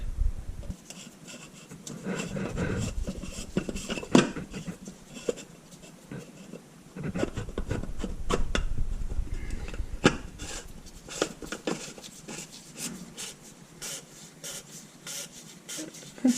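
Oil filter being screwed on by hand during an oil change on a Porsche 996: close, intermittent rubbing and scraping of metal threads and a gasket, with brief louder scuffs and a faint background hiss.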